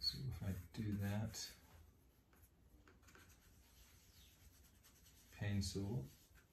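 A pencil drawing on a pad of good-quality paper gives a faint, soft scratching that runs quietly between stretches of a person talking at the start and end.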